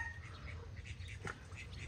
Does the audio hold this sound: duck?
yes